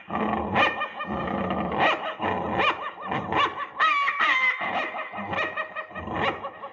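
A person imitates a dog howling and growling, a continuous run of guttural yowls and whines rising and falling, loud and close.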